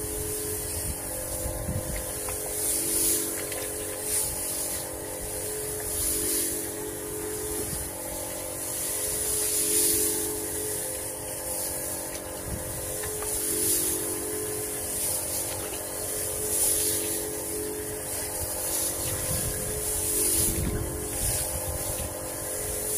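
A motorized sprayer drones steadily while spraying Nativo fungicide over a rice field on a cool, windy morning, a continuous engine hum with a hissing spray and gentle swells in loudness throughout.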